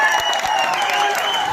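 Crowd applause at a Kali Puja jatra festival in Keonjhar, a brief burst of clapping from an audience, fairly loud and steady, with faint voices underneath.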